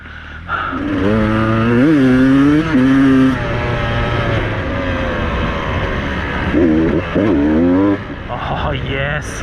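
A Beta 200RR two-stroke dirt bike revs hard on a singletrack trail as it rides over a log, its engine rising and falling in sharp bursts, loud and close, with a rider's voice heard briefly.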